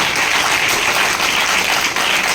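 Loud, dense applause from a large audience at a business summit rolls on steadily, many hands clapping at once with no talk over it.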